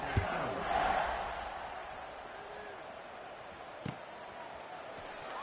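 A large stadium crowd in College Football 26 roars and murmurs in a continuous wash, swelling briefly near the start, then settling into a steady distant din with a single thud.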